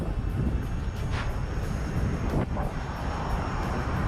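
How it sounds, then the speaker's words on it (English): Steady, loud rushing roar of headwind buffeting a rider on a KingSong electric unicycle, continuous throughout with no talk. "I have started to pick up a lot of headwind right here in this section"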